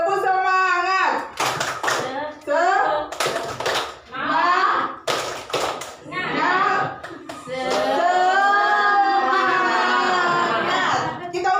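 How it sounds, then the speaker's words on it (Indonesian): A group at a school teacher-training session does a rhythmic clapping chant, the tepuk semangat: short bursts of unison claps alternate with loud chanted and spoken voices. "Coba kita tepuk semangat dulu."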